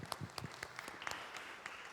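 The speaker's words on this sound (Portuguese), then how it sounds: "Uma salva de palmas para Dedé." A church congregation applauds at a doctrine service, scattered hand claps forming a faint, uneven patter throughout.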